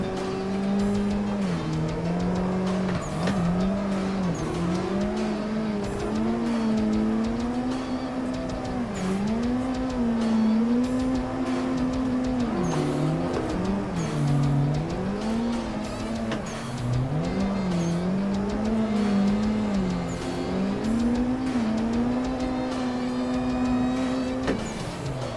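Drifting car in the racing game Assetto Corsa, played on modded cars: a steady wavering engine note runs throughout, rising and dipping with throttle, loud and close, with tire squeal woven in and no talking.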